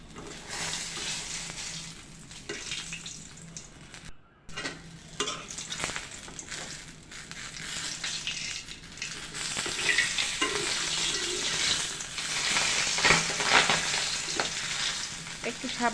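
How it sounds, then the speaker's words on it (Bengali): Pangas fish pieces fry in hot oil, a dense crackling sizzle with bursts of spattering and occasional stirring scrapes, close and steady, briefly cut off before resuming louder. "মাছটা আমি আরেকটু হালকাভাবে ভেজে নেব।"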